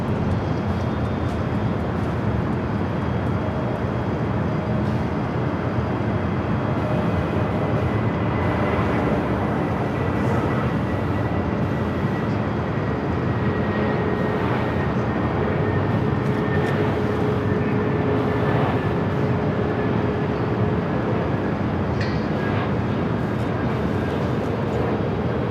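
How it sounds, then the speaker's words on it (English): Frontier Airbus A320neo arriving at LAX, a steady broadband jet roar that holds loud and unbroken throughout with a faint whine riding on top, no voices. "let's head to the Frontier A320 Neo"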